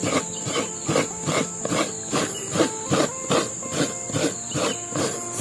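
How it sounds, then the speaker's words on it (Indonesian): Coconut being grated by hand: steady, evenly paced scraping strokes, roughly two per second, rasp close up over a constant hissing background. "Ini akan saya lanjutkan memarut kelapanya"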